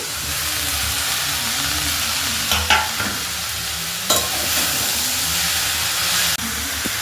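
Tomatoes and chopped green chili stirred into a cauliflower curry in a pan: a continuous sizzle and steamy hiss under a low burble, with several spatula clatters and scrapes against the pan.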